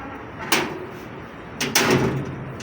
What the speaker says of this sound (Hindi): ये दरवाज़ा खोल गया